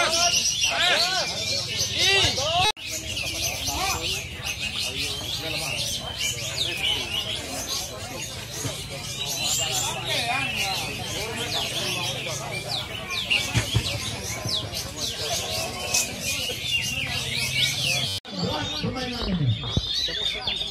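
Many songbirds chirp and trill continuously and loudly at a songbird singing contest in Arga Makmur, Bengkulu, a dense overlapping chorus with crowd murmur underneath.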